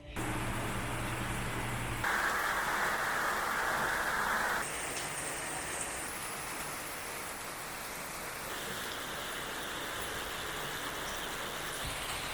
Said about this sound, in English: it is raining like crazy